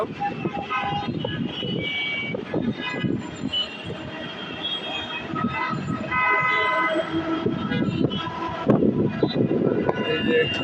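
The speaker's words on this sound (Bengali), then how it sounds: "যাচ্ছে মেট্রো রেল" A metro train rumbles past on a foggy morning in Dhaka, with rattling wheels and high metallic squeals, a steady roar throughout that rises toward the end, heard up close.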